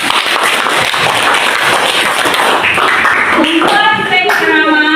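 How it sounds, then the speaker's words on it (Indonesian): A classroom group claps steadily and densely for the whole stretch, a continuous wash of applause with faint voices mixed in near the end. "Tepuk tangan dulu."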